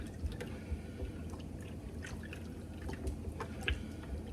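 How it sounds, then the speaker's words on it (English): Bean cooking water is poured into a baked beans mixture, giving a faint, close trickle with scattered drips and splashes over a low background rumble, with no talk. "you're basically just adding the water from the beans in to make 2 cups of liquid"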